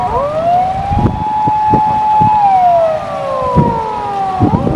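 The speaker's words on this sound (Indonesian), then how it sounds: "kedengeran suara ambulan" An ambulance siren wails loudly, rising and falling steadily near a hospital in Japan, with passing traffic rumbling underneath; no one speaks.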